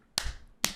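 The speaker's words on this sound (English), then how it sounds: "If I see this, somebody clapping one of the rescuers" Two sharp hand claps ring out close and crisp, about half a second apart, with quiet in between.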